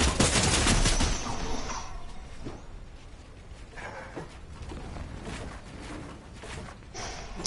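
Turret gunfire rattles in a video game, a dense burst of rapid automatic shots at the start that thins into scattered, quieter bursts and single pops over the following seconds.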